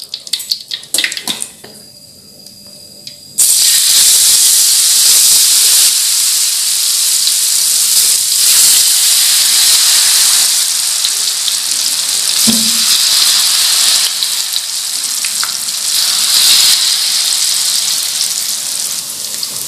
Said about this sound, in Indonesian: Kita akan menggoreng yang ini diparuh ya, 1/2.